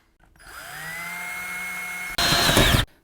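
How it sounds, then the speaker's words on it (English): A power drill whirs up to a steady high-pitched spin, then bites into the wall with a louder, rougher grinding burst while a hole is drilled for mounting a floating table. "Then I'm gonna drill a hole."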